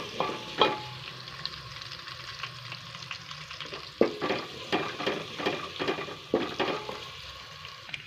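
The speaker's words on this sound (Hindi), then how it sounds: "अब हम इसी ऑयल के अंदर शामिल करेंगे अदरक लहसुन का पेस्ट। लाइट ब्राउन करेंगे इसको ओनली 2 मिनट के लिए।" Ginger garlic paste fries in hot oil with a soft, steady sizzle and repeated scraping stirs and utensil knocks against the pan, no voices over it.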